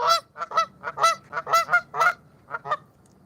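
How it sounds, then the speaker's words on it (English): Geese at a lake honking close by, a burst of loud repeated calls overlapping in an irregular chatter, then a short pause and a few final honks. "They're geese."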